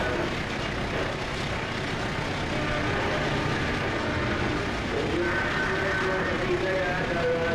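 The Argo Anjasmoro passenger train passes close by on an Indonesian line, a loud continuous rumble and clatter of wheels on rail that holds steady throughout.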